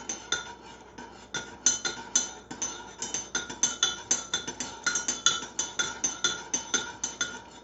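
A metal spoon stirring honey into a pot clinks against the sides in a steady, rapid series of bright tings, close and fairly loud, with no talking.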